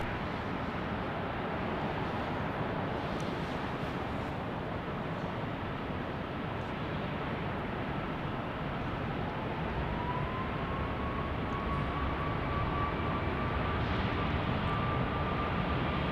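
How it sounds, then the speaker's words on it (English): An American Airlines Boeing 737 MAX 8 jet takes off at Salt Lake City Airport, a steady, broad engine roar with a rising whine that stays loud and constant throughout. "Here we've got a 737 MAX 8, an American."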